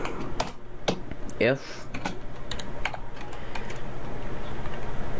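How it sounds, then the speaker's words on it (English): Rapid typing on a computer keyboard, close and fairly loud, as a steady run of key clicks with a brief burst of speech partway through. "what I'm going to do is type"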